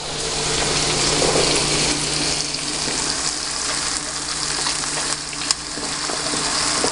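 Ketchup hitting a hot frying pan of vegetables while cooking corned beef, giving a steady, loud sizzle and frying hiss that runs throughout, with faint stirring clatter and a brief scrape near the end.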